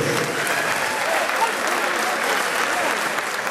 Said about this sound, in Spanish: Un fuerte aplauso para todos los que han trabajado.